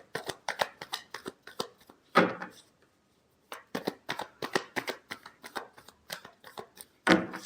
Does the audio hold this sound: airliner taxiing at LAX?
no